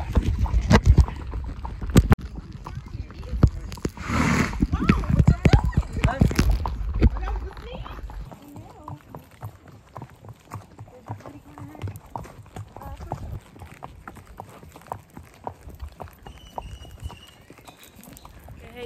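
Horse hooves clop in an uneven rhythm during a trail ride under wind and rustling, with people talking and calling out; the sound softens partway through.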